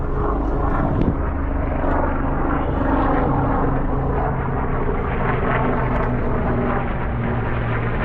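A helicopter drones steadily near a Manhattan helipad on the Chelsea waterfront, its continuous engine and rotor rumble loud and close throughout, with no voices.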